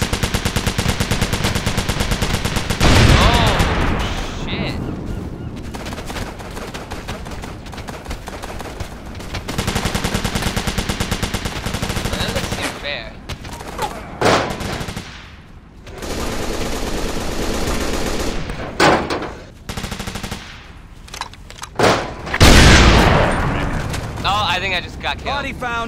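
Gunfire in Operation Flashpoint: Dragon Rising on hardcore mode, loud sustained bursts and booms from automatic weapons coming in waves with brief lulls, while a player talks over the shooting.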